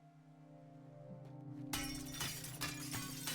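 Glass shattering in Teardown, a sudden loud crash of breaking panes erupting over a low steady hum and then trailing into scattered tinkling fragments and further crunches.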